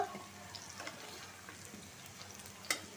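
Garlic and onion frying in a pan for a dried-fish bhuna, giving a steady close-up sizzle with scattered stirring clicks and a sharper scrape near the end, and no talk over it.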